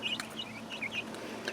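Purebred Welsummer chicks peep in a brooder with a few quick, high chirps in a short burst. The sound is fairly quiet against a low background.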